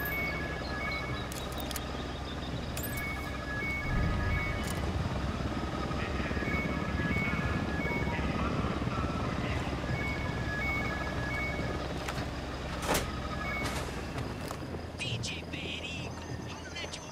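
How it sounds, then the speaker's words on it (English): Helicopter rotor drone in the Ghost Recon Wildlands video game, a steady dense roar running the whole time beneath game effects and overlapping radio-style voices, moderately loud and continuous rather than passing by. "Unidad chopper, stay low."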